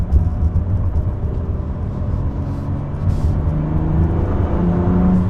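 A BMW M2 Competition engine pulls under acceleration from inside the car, a steady low rumbling drone that builds slightly in intensity, with no talking.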